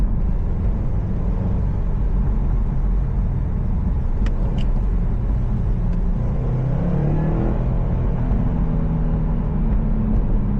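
Engine and road rumble of a 2018 Subaru WRX STI manual sedan driving through a Winnipeg winter, a steady loud cabin drone with shifting revs and a few faint clicks.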